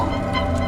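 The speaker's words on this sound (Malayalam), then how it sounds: "കോഴിയുടെ ശബ്ദം കേട്ട്" Continuous fowl calling, dense and steady throughout, close and fairly loud with no pauses; clucking and gobbling tones blend together.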